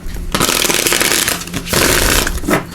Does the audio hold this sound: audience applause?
no